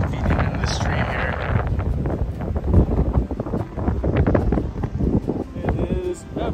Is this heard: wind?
yes